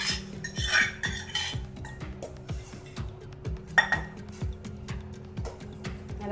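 Lentils go into a pot of boiling water, with metal utensils clinking and tapping against the pot in a quick, irregular series of close, sharp ticks over a faint background hum.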